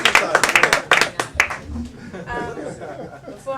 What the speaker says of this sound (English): Now give Hailey a round of applause.